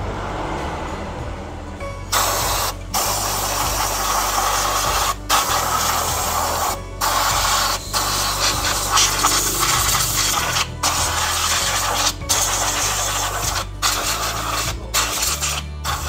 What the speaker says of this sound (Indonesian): Segera disemprot dengan kompresor.